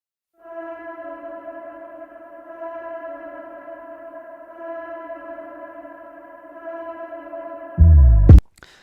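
A song opens on a steady, hazy synth chord that holds unchanged for several seconds, then ends with a sudden loud thump.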